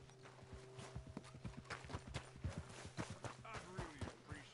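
Horse hooves clip-clop in steady rhythm in the Red Dead Redemption video game, a run of near, distinct footfalls on the ground with music and a voice talking over them.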